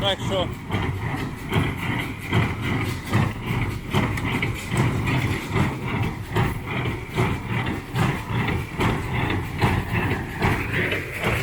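A tractor hauling a baler creeps along slowly in low first gear, its engine giving a low, steady drone with a faint rhythmic pulse beneath someone talking throughout.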